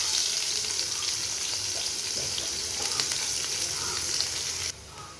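Chopped onions frying in hot oil in a tawa, a loud, dense continuous sizzle up close that cuts off abruptly near the end.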